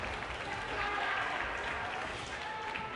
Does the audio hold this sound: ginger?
no